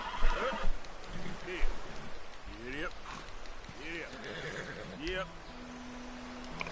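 Horse whinnies from Red Dead Redemption 2, several rising neighs spread through the clip, moderately loud under ongoing game sounds and a talking voice.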